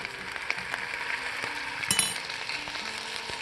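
Crispy salmon fillets frying in a pan after being flipped, a steady sizzle with a couple of light clinks and pops, no voices.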